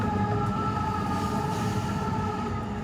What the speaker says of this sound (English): A passenger train and then another freighter.